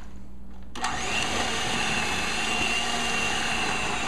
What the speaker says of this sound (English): You want to be careful because the blender will kind of make it spray.